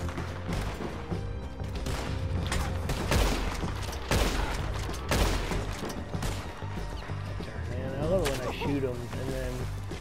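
Repeated gunshots crack through a Red Dead Redemption 2 shootout, sharp reports spaced irregularly over a dense background, while people talk and exclaim throughout.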